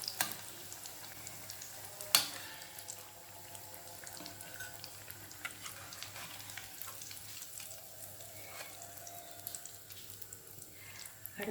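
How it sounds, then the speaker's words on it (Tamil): Beef spring rolls deep-frying in oil bubble with a faint, even sizzle, broken by a sharp utensil clink early on and light scraping, heard close but quiet. "ஸ்ப்ரிங் ரோலும் இப்போ ஃப்ரை பண்ணி எடுத்தாச்சு."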